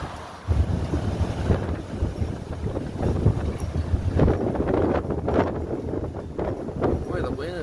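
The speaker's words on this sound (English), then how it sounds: "Boy, the wind is whipping today," Strong gusting wind during a storm in Newark, Ohio buffets the microphone with a continuous rough roar and surging gusts, while someone talks over it throughout.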